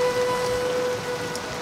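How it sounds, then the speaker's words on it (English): Rain falls steadily on a convertible lorry in Burma, a dense continuous patter with a faint steady tone running through it, close and unbroken. "This is raining. Look at it!"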